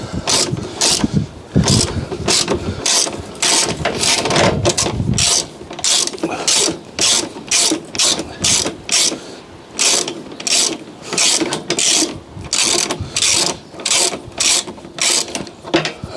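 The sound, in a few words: ratchet undoing 10mm bolts on a Fiat 500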